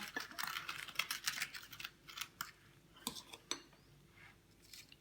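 A small spoon packs and scrapes powder for homemade toilet tablets, giving a run of close, light clicks and taps with short scraping bursts and brief pauses.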